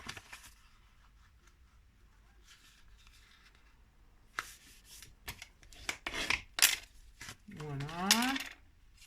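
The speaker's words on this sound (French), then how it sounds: "vous marquez tous vos plis" Paper being creased and folded by hand for a homemade album, a run of quick rubbing and sliding strokes that gets louder and busier toward the end, close up with a short voice-like sweep near the finish.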